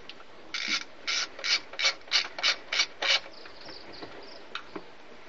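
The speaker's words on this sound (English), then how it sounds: "We're using a 13mm. I'm using a tube socket." A ratchet with a 13mm tube socket loosens bolts on a Yamaha VXR personal watercraft engine, giving eight quick, evenly spaced clicking bursts close up, then fainter scattered clicks.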